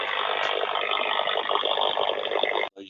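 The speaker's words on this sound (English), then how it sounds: "you're listening to corona. And it's going to have a much lower sound." Electrical corona discharge from overhead line insulators gives a steady, loud, buzzing hiss with a crackling edge that runs unbroken before cutting off abruptly near the end.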